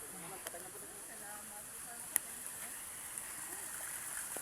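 Mountain stream water flowing on the climb to Buscalan village: a soft, even rushing wash, faint and continuous, with a few small splashy ticks along the way.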